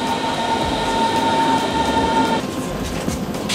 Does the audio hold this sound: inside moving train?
yes